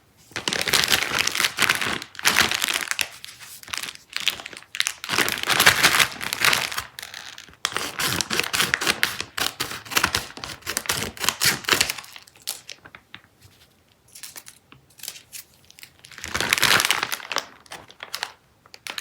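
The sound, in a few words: cutting open a plastic bag of lollipop candy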